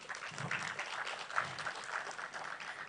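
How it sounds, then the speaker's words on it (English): Audience applause fills a conference hall at a live-streamed business event, a steady wash of clapping from many hands, moderately loud and without speech over it. "A round of applause for him."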